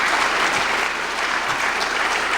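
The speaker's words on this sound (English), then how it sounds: "How about a round of applause, folks, for all that Peggy has done." Steady, dense applause from an audience at a Boy Scouts distinguished citizen award ceremony, continuous and fairly loud for the whole stretch with no talking over it.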